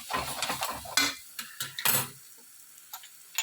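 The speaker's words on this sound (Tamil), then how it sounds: "அடுப்பை சிம்மில் வச்சுட்டு நல்லா கிண்டி விட்டுடலாம்" An egg poriyal is stirred in a pan over a low flame, with close scraping and clinking strokes in quick succession and a faint sizzle under them.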